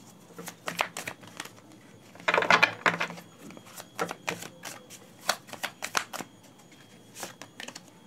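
Tarot cards handled and drawn from a deck make quick papery flicks, shuffles and taps in a quiet room, close and irregular.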